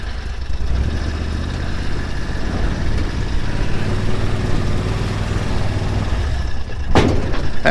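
An 8x8 Argo amphibious vehicle engine runs steadily in low range at a WW2 bomber training range, a continuous mid-pitched drone close by with a brief louder knock near the end.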